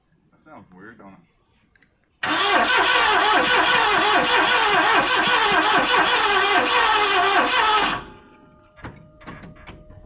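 A 1986 Ford F350 V8 bursts into a loud, rough, sustained run for several seconds before shutting off, with brief talk before and after.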